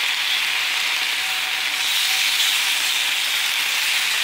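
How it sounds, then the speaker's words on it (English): Bacon sizzles and crackles steadily in a hot pan, a dense, even hiss that stays loud and close throughout without any voices. "turning this bacon"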